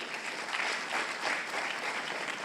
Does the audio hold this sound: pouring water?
no